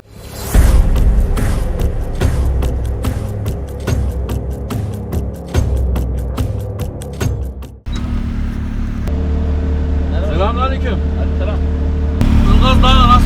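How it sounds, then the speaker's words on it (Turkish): Loud, steady roar of car engines from up above in Kastamonu, Turkey, throughout, with voices talking over it; the engine noise swells again near the end. "Bağırıyor arabalar yukarıda ses geliyor."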